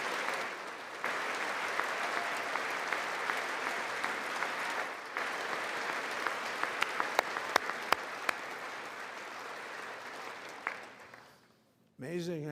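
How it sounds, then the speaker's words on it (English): An audience at a presidential State of the Union address claps steadily for a long stretch, a dense wash of applause with a few sharper claps standing out, before it fades and stops. "They're all clapping."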